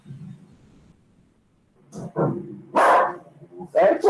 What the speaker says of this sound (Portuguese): o cachorro ficou doido